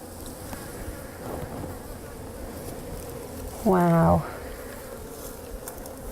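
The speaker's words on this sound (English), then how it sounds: "it's a rarity to see bees so close like this" Honey bees on a hive frame hum in a low, steady drone close by; a person exclaims briefly partway through, then the buzzing carries on.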